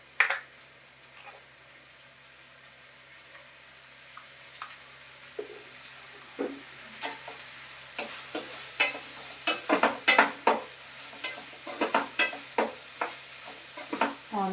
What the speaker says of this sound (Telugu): 3 మీడియం సైజ్ ఉల్లిపాయలు తీసుకుని మీడియం ఫ్లేమ్లో పెట్టి సాల్ట్ వేసుకుని బాగా ఫ్రై చేసుకోవాలండి.